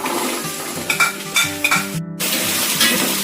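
Small shallots added to a hot pan of fried garlic and black pepper for Kerala chicken perattu, sizzling close by with repeated clanks of a spoon stirring against the pan and a brief gap before the frying resumes.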